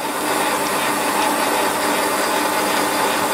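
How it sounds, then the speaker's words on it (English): A centre drill cuts a small chamfer on the front edge of a workpiece in a Warco lathe, giving a steady, loud, continuous whirring and grinding hiss with faint mechanical chatter throughout and no talking. "I'll just use a centre drill for that."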